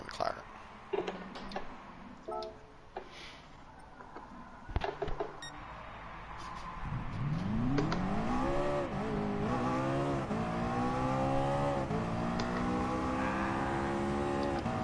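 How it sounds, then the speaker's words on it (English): A McLaren race car in a driving game starts out quiet, with light clicks and faint talk. Its engine then revs up loud and steady, with rising and falling gear-change sweeps that carry on to the end. "Back in the McLaren."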